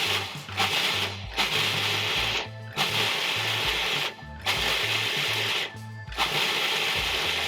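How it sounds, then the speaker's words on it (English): A food processor pulses old-fashioned rolled oats into flour, with several loud whirring bursts of a few seconds each, separated by short pauses. "And we're just gonna pulse them until they're fine like a flour."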